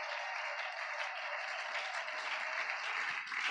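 A church congregation applauding the Lord during a sermon, steady dense clapping from many hands that fills the room evenly and continuously.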